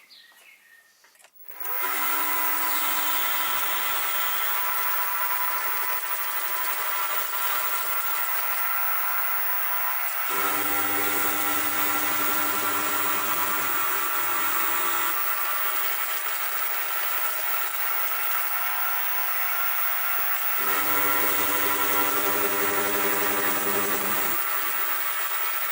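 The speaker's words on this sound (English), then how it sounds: "This is a 16mm end mill, and I think it's a 6 flute, and I'll be running it round about 600 RPM." A 16mm six-flute end mill turns at about 600 RPM, milling a steel arm for a knurling tool. The cut makes a loud, steady high whine and hiss, with brief pauses around 10, 15 and 21 seconds before it resumes.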